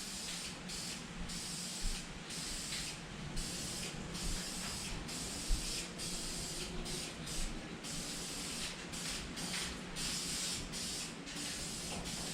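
Bursts of aerosol spray paint hiss repeatedly in short, close passes over a small block Chevy engine, with brief pauses between strokes and no talking.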